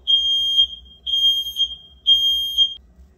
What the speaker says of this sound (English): Let me stop that alarm.